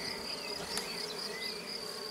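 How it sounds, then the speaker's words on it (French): Honey bees buzzing over a frameless Layens hive box during an inspection, a faint continuous hum of many insects with a high whine of individual wings passing close. "il y a un petit peu d'abeilles dessus, c'est pas grave, elles vont s'en aller."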